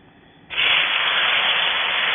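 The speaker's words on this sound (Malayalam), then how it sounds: "ഓയിൽ ചൂടായിട്ടുണ്ട് ഇനി നമുക്ക് സോയ വറുത്തെടുക്കാം" Soya chunks dropped into hot oil for deep frying, bursting into a loud, steady, close hiss of sizzling after a brief quiet start.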